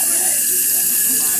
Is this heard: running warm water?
yes